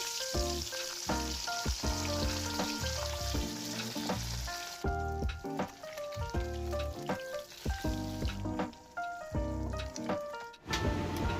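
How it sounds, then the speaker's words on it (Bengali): Kajoli fish fries in hot white oil with a steady crackling sizzle running beneath loud background music. "তেলটা গরম হয়ে গেছে মাছটা ছেড়ে দেবো"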